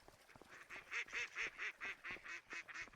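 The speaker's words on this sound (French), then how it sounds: "Il y a les canards." A rapid run of about ten nasal duck quacks in an even rhythm in Farming Simulator 25, moderately close, over a quiet background.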